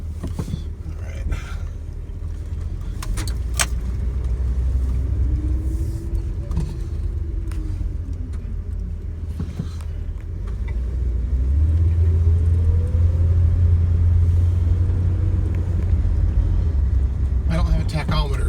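An old van's engine rumbles low and steady from inside the cabin, pitch climbing and dropping as gears shift, with occasional clicks and creaks and some talking.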